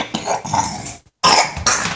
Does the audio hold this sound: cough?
yes